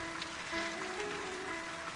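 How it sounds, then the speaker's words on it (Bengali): Heavy rain pours steadily outside in a cartoon scene, a dense, even hiss of falling water with no pauses and no voices. "কিন্তু বাইরে তো খুব বৃষ্টি হচ্ছে"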